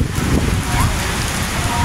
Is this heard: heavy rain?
yes